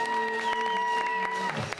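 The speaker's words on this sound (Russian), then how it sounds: "Шикарное исполнение, аплодисменты." An audience applauds after a dance set to pop music and a Spanish paso doble at a New Year show in Omsk, scattered claps sounding over a lingering musical tone.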